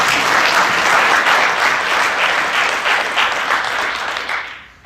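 Audience at a Franklin County Chamber breakfast applauding, with sustained dense clapping from a roomful of people that fades out toward the end.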